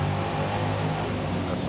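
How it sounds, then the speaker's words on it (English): A Ford Fox Body car in the Forza Motorsport racing game gives a loud, throaty exhaust drone that holds steady through a short burst. "Ooh, listen to that exhaust."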